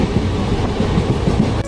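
Steady rolling rumble of a passenger train on the Chennai to Tirunelveli line, heard from inside a carriage, with continuous wheel-on-rail noise and faint rhythmic clatter throughout, no talking.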